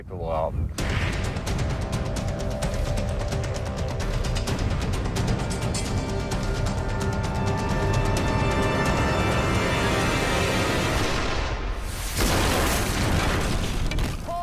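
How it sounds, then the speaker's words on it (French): An RPG rocket detonates against a concrete wall beside a metal shipping container, giving a sharp blast followed by a long, loud, roaring rumble of debris that fades before a second burst of noise near the end. "La roquette a touché le centre du mur de béton. Tout le conteneur a été touché par l'explosion."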